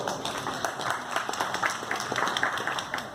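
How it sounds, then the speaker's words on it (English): Audience applause at a technology talk on future trends, steady dense clapping filling the hall at moderate level with no voices over it. "Round of applause."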